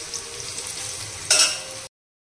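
Onions and spices frying in a pan for a fish dish, a steady close sizzle that swells briefly louder as more goes in, then cuts off.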